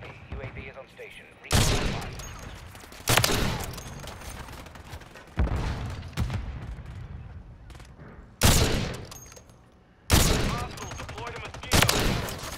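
Sharp bursts of rapid gunfire from a gun in the Modern Warfare 3 video game, six loud volleys in an irregular rhythm with quieter gaps between, a voice talking in the pauses.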